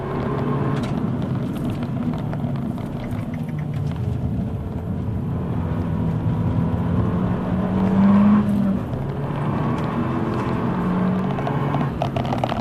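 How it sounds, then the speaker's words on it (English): A steady, low exhaust rumble from an Abarth 695 Biposto with an Akrapovic titanium exhaust driving along, burbling throughout with a slight swell partway through. "the Akrapovic titanium exhaust bubbles pretty nicely"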